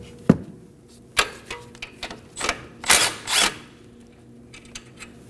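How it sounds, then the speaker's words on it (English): A 17mm socket on a ratchet removes a nut from the front left suspension of a 2016-2020 Kia Sorento. Several separate bursts of metallic clicking and grinding land irregularly, loud and close, with quiet gaps between them. "Using a 17mm socket, go ahead and remove the nut."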